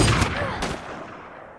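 Two sharp pistol shots from a movie scene, the first near the start and the second about half a second later, each with a long decaying echo and brief voices beneath.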